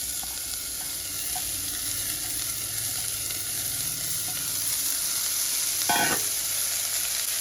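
Half a kilo of snake gourd sizzles and fries in a pan with onion, with steady crackling and a clear scrape of stirring near the end, close and alone.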